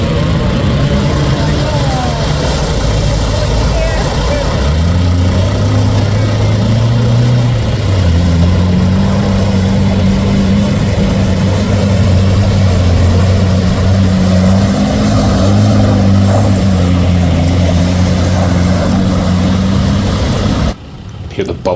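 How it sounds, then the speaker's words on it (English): Off-road Land Cruiser 100 Series idles with a low, bubbling exhaust burble, a steady deep rumble with wavering tones, loud and close, while people talk over it before the sound cuts off near the end. "Hear the bubbles coming off his exhaust."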